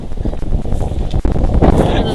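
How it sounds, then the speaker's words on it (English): Wind gusting outdoors on a snowy late-April day, a steady broadband roar with blustery swells close to the microphone and a brief knock partway through. "It is windy and it is very snowy today"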